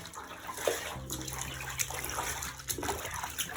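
Water sloshing and trickling as Visvim clothing is hand washed, swished and squeezed in a basin, with irregular splashes and drips close by, no talking.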